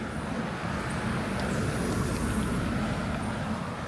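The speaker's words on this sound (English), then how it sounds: "And the occasional car." A single car passes along a road through a Puerto Rico forest, its tire and engine rumble a steady, moderately distant wash with no voices present.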